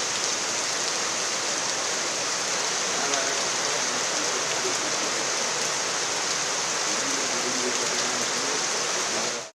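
Heavy rain falls in Tamil Nadu towns such as Dindigul and Salem, with water pooling and flowing on the roads: a loud, steady, dense hiss that continues without a break and then cuts off at the end.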